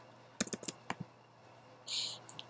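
Several quick keystrokes tap on a computer keyboard in a quiet room, a short burst of clicks followed by a pause and a couple of softer presses.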